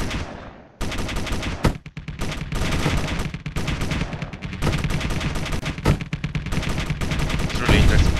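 Rapid gunfire from a ship's rear gun during a corvette-versus-frigate battle in the video game Space Engineers, loud sustained bursts of shots with brief gaps and a few sharper cracks, close and dense throughout.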